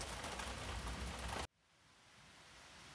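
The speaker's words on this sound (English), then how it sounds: "The next day brought even heavier rain." Heavy rain falls at a cherry and walnut orchard, a loud, dense, steady roar of drops that cuts off abruptly halfway through, replaced by a much quieter, softer hiss of rain that slowly swells.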